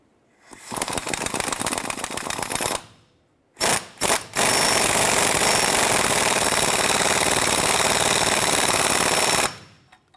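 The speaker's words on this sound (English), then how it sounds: "I'm going to use a 16mm wrench on the head of the bolt. Use our 15 on the nut side, and we're going to tighten this down." Tie rod adjusting sleeve bolt on a 1993-1997 Ford Ranger driven by a power tool, loud continuous rattling hammering in two long bursts with a few short blips between, close up.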